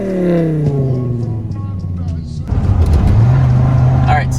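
A stick-shift 1997 Dodge Viper GTS on the road: the engine note slides downward, then a shift brings a louder, rougher rise as it pulls again.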